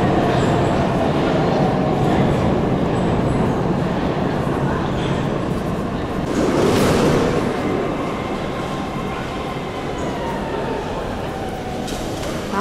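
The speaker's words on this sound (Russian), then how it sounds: "Там подошел поезд." A metro train rumbles steadily through an underground station in St. Petersburg, its roar swelling briefly midway before easing into a lower hum as it slows. A voice talks over it.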